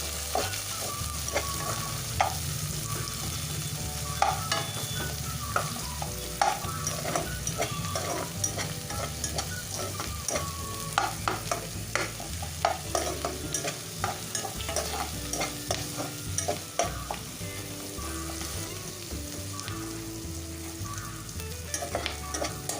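Onion frying in a pan while being stirred steadily, a continuous sizzle layered with frequent scraping and clattering of a spoon against the pan, close up and with no one talking.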